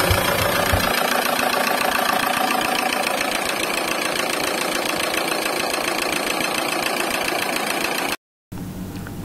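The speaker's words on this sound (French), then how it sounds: "Ici, on lance le premier démarrage, qui fonctionne parfaitement." A Peugeot 407 Coupé engine runs at a steady, loud idle with a continuous rough rumble after its first start following replacement of the engine servo box, broken by one brief cut before resuming.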